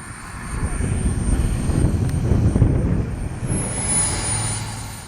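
A radio-controlled scale warbird plane landing on its maiden flight, a steady engine drone and wind rush that swells and fades slightly, with a thin high whine rising briefly near the end.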